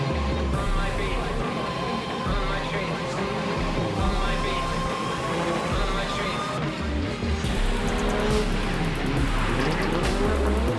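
Drift cars, including a grey and yellow Nissan, roar continuously at full throttle with squealing tires and skidding throughout, loud and dense, with an announcer speaking over the engine noise.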